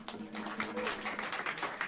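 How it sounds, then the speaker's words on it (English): A jazz club audience applauds bassist Simon Wilson, with a spread of quiet, distant overlapping claps and scattered voices in the room. "How about a round of applause for him?"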